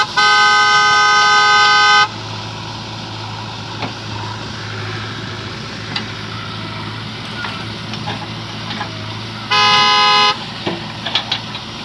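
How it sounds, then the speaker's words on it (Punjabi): A vehicle horn sounds twice at a farm earth-moving site in Punjab where a JCB loads soil into a tractor trolley, each long steady blast lasting a second or two, separated by engine rumble and clatter. "ਹਾਰਨ ਵੱਜਿਆ ਥੋੜ੍ਹਾ ਗਾਂਹ ਕਰ ਲਾ"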